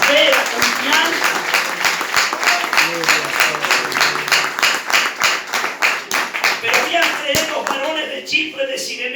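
A church congregation claps loudly during a Spanish-language service, individual claps distinct in a fast, uneven rhythm, with voices speaking and calling out over the applause.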